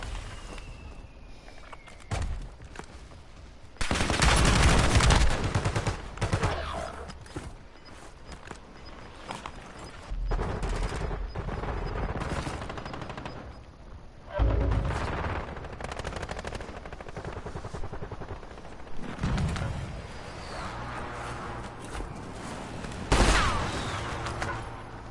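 Automatic gunfire in Warzone Rebirth Resurgence rattles in repeated bursts, some loud and close and others softer in between, keeping up throughout with no talk.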